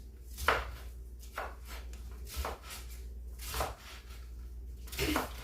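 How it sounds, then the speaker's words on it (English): A knife cuts cabbage into strips on a board, five or six separate crisp chops at a steady unhurried pace, close and clear over a quiet low hum, with no talking. "So I'm just cutting my cabbage into strips here."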